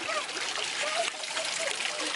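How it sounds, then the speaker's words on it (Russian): Spring water trickling and splashing steadily beside a riverside embankment walk, a continuous close, even babble filling the whole stretch with no pauses. "Вода бежит."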